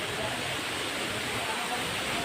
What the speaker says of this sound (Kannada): 50 ರಿಂದ 80 ಅಡಿಯಿಂದ ಮೇಲ್ಗಡೆಯಿಂದ ನೀರು ಬೀಳುತ್ತೆ